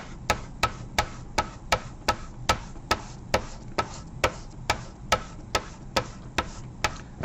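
Chalk being rubbed hard on paper in regular strokes, a loud, even series of sharp scraping ticks about twice a second, close up and alone without talk.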